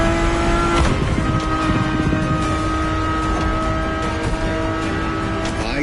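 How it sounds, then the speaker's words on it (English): A car engine in the racing video game The Crew revs and drones steadily and loud for several seconds, a sustained harmonic roar with rising and falling pitch heard from inside the car. "And the car's voice sounds even better from inside."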